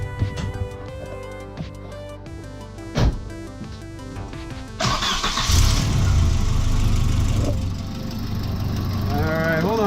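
A Volvo 780 Bertone turbo engine, just reassembled after a manifold swap, cranks and catches about halfway through, then settles into a loud, rough, steady idle after a stretch of background music.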